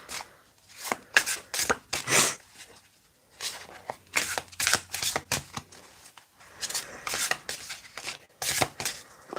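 A thick tarot deck is shuffled by hand in three bursts of quick riffling and slapping card sounds, close and fairly loud, separated by brief pauses with no talking.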